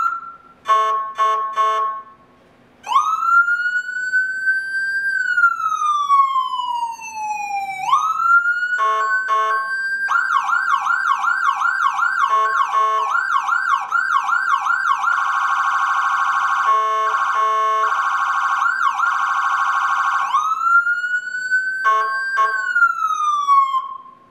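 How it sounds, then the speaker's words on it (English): Loud Whelen 295SLSA1 electronic siren amplifier cycling through several tones alone: a slow rising-falling wail, a fast yelp, then a rapid warbling piercer before the wail returns. "here's an example of several siren tones the 295 SLSA1 will offer."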